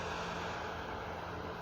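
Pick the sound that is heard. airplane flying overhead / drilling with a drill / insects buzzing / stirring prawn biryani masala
airplane flying overhead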